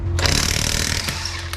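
An impact wrench fitted with impact sockets hammers at bolts on a BMW E36, a loud, close rattling burst lasting about a second before cutting off.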